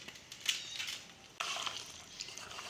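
Fish pieces are mixed by hand with masala in a bowl for fish kebab, making soft wet squishing and clinking sounds in two short bursts, close and quiet.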